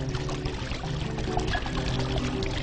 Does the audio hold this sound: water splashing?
yes